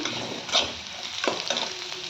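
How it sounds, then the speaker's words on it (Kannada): Bitter gourd frying in hot oil in a pan for a simple palya, a continuous close sizzle with a couple of quick stirring scrapes, brief and without voices. "ಎಣ್ಣೆ ಫ್ರೈ ಆಗ್ತದೆ ನೋಡ್ರಿ."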